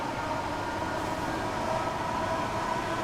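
Southeastern High Speed train running into a tunnel in Train Sim World 3, a constant enclosed roar of motor and wheels, loud and even throughout with no talking.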